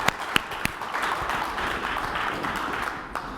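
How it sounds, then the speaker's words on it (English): Audience applause for a guest speaker, an attorney called up at a cannabis real estate talk, as a steady wash of clapping with a few sharp close claps at the start, trailing off near the end. "come on, get that applause"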